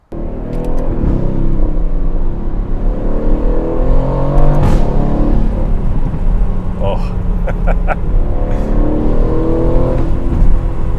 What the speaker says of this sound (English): This is my Aston Martin Vantage, and here's what it sounds like behind the wheel.